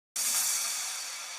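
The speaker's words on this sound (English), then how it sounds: "Reverse crash." A reversed crash cymbal effect for progressive house swells in bright and shimmering, then holds a hissy wash that slowly thins out, heard alone.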